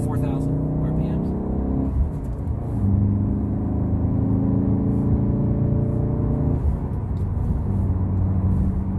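A VW Golf R engine drones loudly and steadily from inside the car on a fast road, its pitch climbing as it accelerates toward 4,000 RPM.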